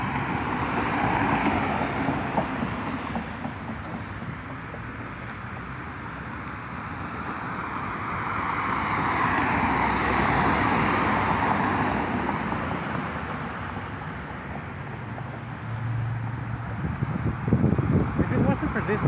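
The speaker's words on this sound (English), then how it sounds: "Oh, now there's more cars coming." Cars passing on a road in the Goosebumps: Attack of the Mutant video game, a steady broadband roadway hum with wind-like rushing that swells around the middle and again near the end as more vehicles approach.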